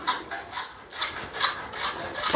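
Hacksaw cutting through PVC pipe, a steady back-and-forth rasp of about six even strokes, close and fairly loud with no voices.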